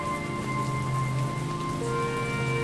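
Heavy pouring rain from a video game, a steady dense hiss of downpour with faint tonal music or ambience beneath, constant in loudness throughout.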